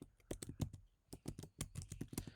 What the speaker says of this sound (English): Once we type network quality in the terminal, we have to hit the return key